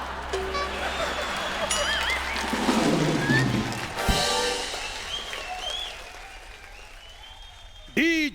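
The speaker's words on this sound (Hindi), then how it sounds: "जोरदार तालियां।" Loud studio audience applause at a Hindi game-show taping, rising and swelling under a host's voice, then fading as talk continues, with a sudden sharp burst of sound near the end.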